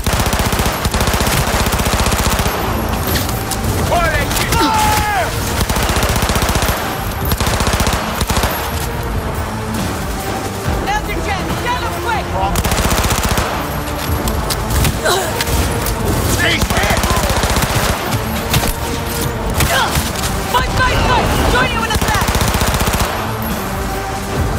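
Sustained automatic gunfire and bursts of shooting from the video game Cyberpunk 2077 fill the scene loudly and continuously, with booms mixed in and a voice speaking over the action.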